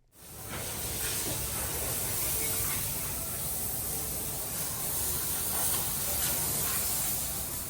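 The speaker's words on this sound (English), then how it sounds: "I think it's pressure washing." A continuous hissing spray, like a pressure washer blasting water at a Downtown Disney construction site, holds at a steady moderate level throughout.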